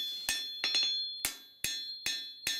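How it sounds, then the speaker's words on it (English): Six sharp, ringing hammer strikes land on a cold steel knife blade being drawn out at the heel during forging, spaced unevenly but controlled, close and clear with no voices. "I've got more controlled hammer blows."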